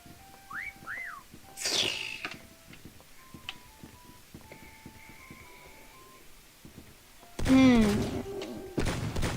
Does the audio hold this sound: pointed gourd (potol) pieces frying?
no